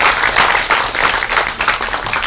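An audience claps at a movie audio launch for Siva Sambo, a loud, dense burst of applause filling the hall for a couple of seconds.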